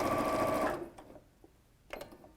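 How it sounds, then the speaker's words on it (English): A sewing machine stitching appliqué during dressmaking runs in a steady, fast whir for under a second and then stops, followed by a few faint clicks and small mechanical knocks. "I'm going crazy with my stitching. And I'm sort of stitching up."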